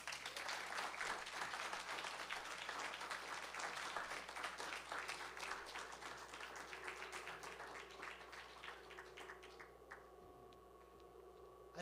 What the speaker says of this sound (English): I think we need to applaud Joe Diggs some more